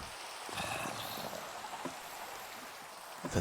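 Steady Minecraft rain patters softly with a constant hiss, occasional louder drops standing out; no voices.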